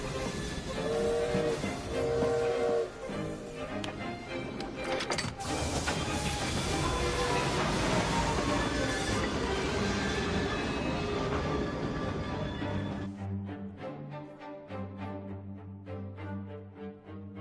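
Steam train in Assassin's Creed Syndicate pulling out of a station: a loud, steady mechanical rumble and clatter with a brief whistle near the start, running continuously before easing into a lighter rhythmic chugging.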